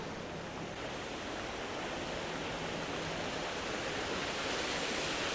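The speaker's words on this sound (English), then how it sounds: "I'm just about to walk around the corner and I can hear the waterfall." A coastal waterfall roaring as a steady, dense rush of water, constant and fairly strong throughout, with no voices.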